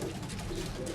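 A Teddy Rampuri pigeon gives a short, soft coo, quiet and close, with no voices.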